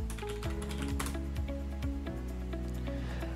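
Keys tapped on a computer keyboard while entering a web address, rapid light clicks over a steady, loud tonal background with low gliding pitches throughout.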